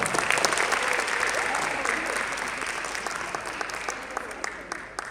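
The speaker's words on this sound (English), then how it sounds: "Let's give them a warm welcome and a big round of applause." Audience applause welcoming the cast of a staged skit-and-debate performance, a dense, steady wash of many hands clapping throughout, gradually easing off toward the end with a few louder claps standing out.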